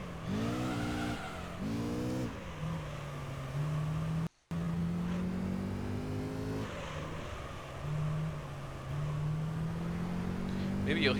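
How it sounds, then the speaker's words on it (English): A Honda NSX engine in Gran Turismo 3 revs hard, its pitch climbing and falling through sharp, aggressive downshifts, then settles into a steady high drone under continuous track and tire noise. "I love how aggressive the downshifts are in this car, too."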